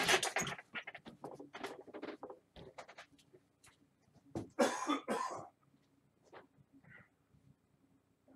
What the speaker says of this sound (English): Let me clear my throat just for a moment.